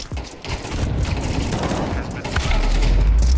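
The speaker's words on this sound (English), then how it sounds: "His teammate is already shooting" Dense Counter-Strike gunfire rattles in rapid overlapping bursts, loud and continuous throughout the short stretch, with a low booming rumble building toward the end.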